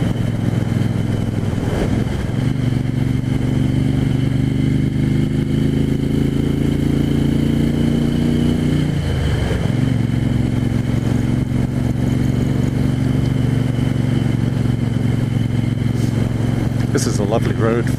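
A 1974 Moto Guzzi 750S motorcycle is ridden along a road, its engine holding a steady loud drone with a brief dip and shift around nine seconds, then continuing evenly throughout while a voice narrates over it.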